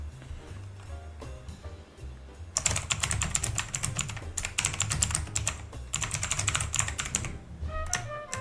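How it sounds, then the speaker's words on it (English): Fast, steady typing on a computer keyboard rattles close to the microphone for several seconds after a short quiet lead-in, with no talk. "I'm going to type now"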